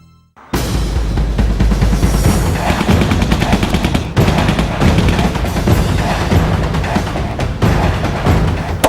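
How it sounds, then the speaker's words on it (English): Gunfire at a shooting range: sustained, loud, close shots in dense rapid bursts that run almost without pause from the first half-second to the end. "Now we're at the range. Do a little shooting."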